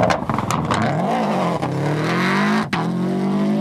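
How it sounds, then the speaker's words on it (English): A rally car on the 1996 Circuit of Ireland Rally does a handbrake turn, its engine loud and close, revving up and dropping away as it swings round. "the rally leader approaches and executes a copybook handbrake turn"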